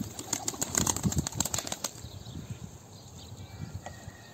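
A released pigeon beats its wings in a quick, close burst of flapping that fades after a couple of seconds into quiet outdoor background.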